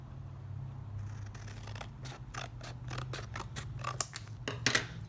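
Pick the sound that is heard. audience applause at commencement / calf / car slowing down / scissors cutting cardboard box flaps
scissors cutting cardboard box flaps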